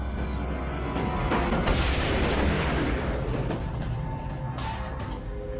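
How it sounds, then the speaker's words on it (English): Explosion on a battlefield front line, a deep booming blast followed by rolling rumble and crackling debris, with a few sharper bangs later, loud and close. "An explosion rocked the front line."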